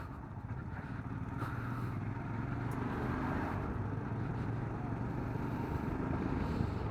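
A motorcycle's exhaust drones steadily during a long-distance road trip from Bengaluru toward Nepal, a continuous close rumble mixed with road and wind noise, with no talking.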